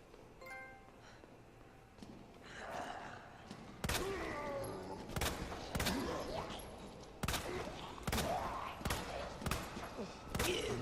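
Gunshots from the Resident Evil 2 video game, set in the sewers: a string of loud, sharp blasts spaced about a second apart, each with a short ringing tail over a dim game ambience.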